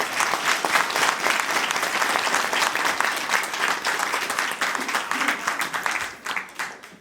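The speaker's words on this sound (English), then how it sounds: "Let's give him a big round of applause." An audience claps and applauds steadily at a building revival event, a dense sustained wash of hands that holds strong before tapering off near the end.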